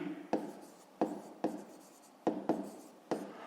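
Pen or pencil writing on paper while an answer is noted down in a fifth-grade math lesson: six or so firm scratching strokes in an uneven rhythm, close and clear, with no talking.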